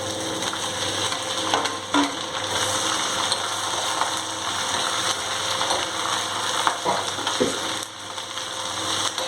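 Curry leaves and onion fry in hot oil in a pan, a continuous crackling sizzle with occasional scrapes and clicks of stirring throughout.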